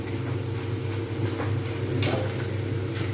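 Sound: potatoes frying in oil until crispy

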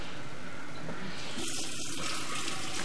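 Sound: bathroom sink faucet running water

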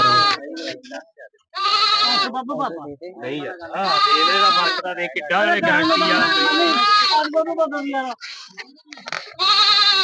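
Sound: goats bleating at Dhanaula goat market

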